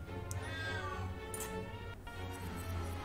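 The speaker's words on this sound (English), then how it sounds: "And also my cat is loud." A house cat meows loudly several times in uneven bursts close to the microphone, over a low background hum with faint talk.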